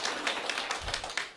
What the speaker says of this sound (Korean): 다시 한번 우리 김현중 사로노즈 마스터님께 큰 박수 부탁드리겠습니다.